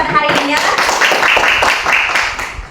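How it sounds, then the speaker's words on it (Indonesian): A school class clapping together at the end of a lesson, a fast burst of many hands close by, with voices over it. "Tepuk tangan dulu untuk kita pada hari ini ya."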